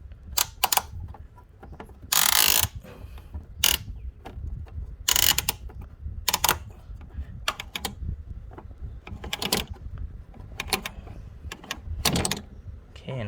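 Plastic tabs on the evap retaining ring of a 2005 Mazda 3 with a small evap leak, clicking and ratcheting as the ring is turned, in irregular close bursts of sharp clicks and rattles, with no talk.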